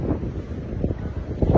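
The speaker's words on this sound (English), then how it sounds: "The wind is incredible." Extreme winter wind gusts in Asheville, North Carolina, near hurricane force, buffeting the microphone with a rough, rumbling roar that surges and dips in bursts, loud and close, with no voices.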